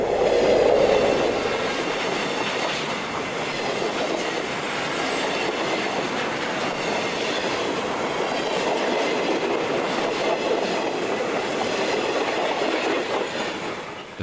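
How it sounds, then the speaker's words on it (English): An HO-scale model train pulled by F40PH locomotives with fourteen cars rolls past a freight on a club layout, giving a steady rumbling clatter with rhythmic wheel clicks throughout, no voices. "our F-40PH motive team pulls our train's 14 cars past an eastbound freight"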